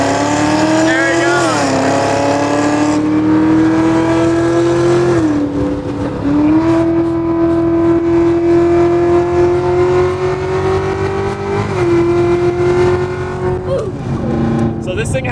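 A 1,000 HP Hennessey Exorcist with a Borla exhaust roars on a drag strip, a loud, sustained engine drone rising through gear changes with brief dips between pulls, close up, as people talk over it.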